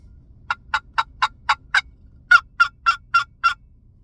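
A custom-made turkey call gives two runs of sharp, rapid gobbles, six quick bursts, a short pause, then five more, loud and close with no talking.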